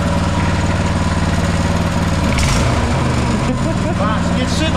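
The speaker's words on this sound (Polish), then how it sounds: "A daje jeszcze gazu." A small seven-horsepower engine, apparently running a pump at night, drones steadily and loudly with throttle surges and changes in pitch, close by, while people talk over it.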